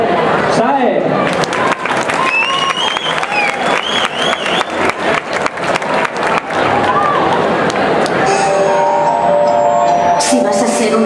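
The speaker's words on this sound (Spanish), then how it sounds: "un fuerte, fuertísimo aplauso para la actuación de SAE." An audience at a Japan Weekend Madrid cosplay contest applauds a cosplay performance, a loud, sustained burst of clapping and cheering with rhythmic claps, mixed with voices and music-like tones.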